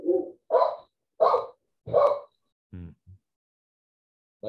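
Dogs bark at close range, four sharp barks in a steady rhythm followed by two softer, shorter yips, with no one talking.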